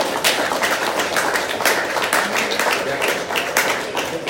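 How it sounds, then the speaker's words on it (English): Steady, dense applause from an audience at an aldermanic candidate meet-and-greet in Hyde Park, many hands clapping together loudly and continuously, close and filling the room. "Y'all clap it up for him."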